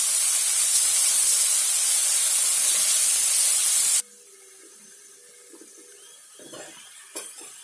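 Crushed shallots, pounded on a grinding stone, drop into sesame oil for a goat-head pepper curry, giving a loud, dense hiss for about four seconds that cuts off abruptly to near quiet with faint clinks.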